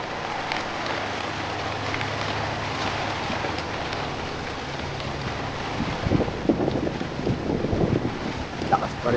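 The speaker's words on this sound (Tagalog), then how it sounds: "Lakas pa rin ang hangin niya" Strong typhoon wind roaring around a house, with the roof rumbling under it: steady, loud broadband rushing that swells into heavier gusts toward the end, with no speech.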